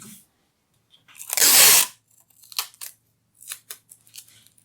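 Scissors trimming tape on a piece of card for a lino print registration device: one long loud crunching cut, then several short snips and crinkles, close up with no talking.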